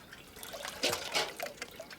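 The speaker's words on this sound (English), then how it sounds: "Then you take your water that you want to be purified and pour it through the sock" Water is poured through an old sock filled with charcoal into a billy at an outback camp, a quiet close trickle with a few brief splashy bursts and drips, no talking.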